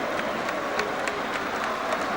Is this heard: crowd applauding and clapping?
yes